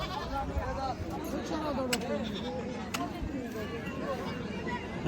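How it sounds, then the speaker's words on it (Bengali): Goats bleat repeatedly at a busy livestock market held on a high school field, their wavering cries rising over a steady murmur of crowd voices and people talking nearby. "ওই বাসাতে কোনার ভিতরে ছাগলের হাট, অল্প কিছু ছাগল উঠছে।"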